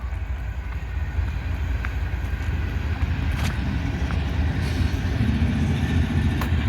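Abbeville switcher train that picked up cars from Greenwood, passing near a depot on a morning: a steady low rumble and rolling rail noise throughout, with faint higher squeals and some wind buffeting.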